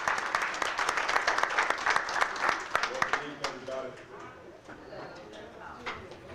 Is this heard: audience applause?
yes